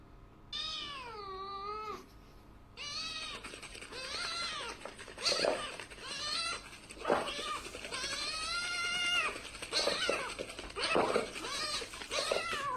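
A cat meows repeatedly and insistently, a run of loud, drawn-out, rising and falling cries close by that carry on with only short pauses.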